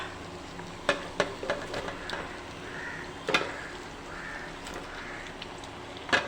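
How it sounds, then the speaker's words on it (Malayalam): Black chicken pieces coated in salt and turmeric sizzle in a pan with softened onions, a steady close frying hiss broken by scrapes and clinks of stirring. "ഇതിലേക്ക് നമുക്കിനി ഉപ്പും മഞ്ഞൾപ്പൊടിയും പുരട്ടിയ കരിങ്കോഴി കഷ്ണങ്ങൾ ഇട്ട് കൊടുക്കാം."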